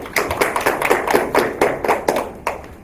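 Crowd clapping at a Simgok-dong residents' general assembly as city council members are introduced, a steady run of close, fairly sparse hand claps with no talk.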